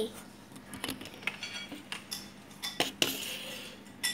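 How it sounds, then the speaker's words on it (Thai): Cutlery and dishes clink and clatter at a sink, with scattered light metallic and ceramic knocks at an irregular rhythm, fairly quiet and close. "ของเธอไปล้างจานนะ"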